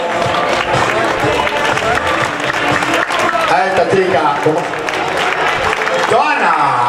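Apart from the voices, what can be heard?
crowd applauding half marathon finisher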